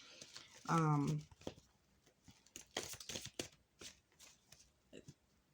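Tarot cards riffle and shuffle in a quick crisp burst, followed by softer sliding and tapping of cards, close up and fairly quiet.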